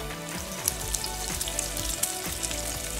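Bacon frying in a pan beside cooking pasta, a steady close crackling sizzle with scattered louder pops throughout.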